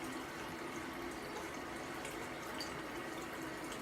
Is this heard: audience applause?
no